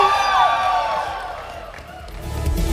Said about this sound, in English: let us give a big round of applause for all the masters